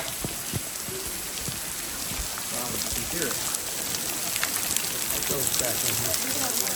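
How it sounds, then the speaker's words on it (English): Water spattering and pouring from a weeping waterfall onto a hiking trail in Zion National Park, a steady broadband wash with scattered drips, heard alongside people talking. "You have to walk under a waterfall."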